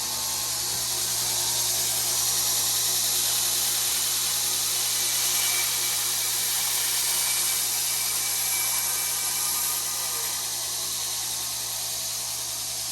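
A belt grinder sands a knife blank, giving a steady, loud whir and abrasive grinding hiss that runs unbroken throughout.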